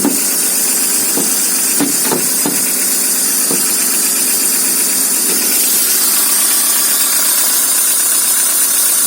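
A VW Golf MK4 engine idles after a winter cold start, a steady mid-pitched running hum with a slightly tappety edge and a few sharp clicks early on, heard close under an open bonnet without talk.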